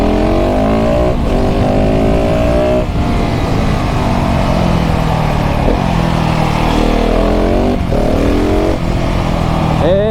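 A KTM 690 SMC R single-cylinder LC4 motorcycle with a full Leovince exhaust rides a mountain road, its loud close engine note rising and falling through repeated gear changes and throttle blips the whole way.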